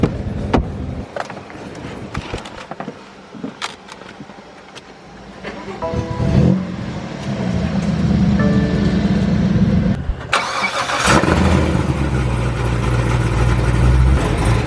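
A 1000-horsepower C7 Corvette Z06 engine rumbles close by, idling and then revving louder toward the end, with mechanical whirring and a brief faint voice.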